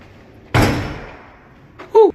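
A hotel room door at Travelers Inn in Subic Bay is pulled open with one loud, sudden knock that fades out, and a voice briefly exclaims afterward.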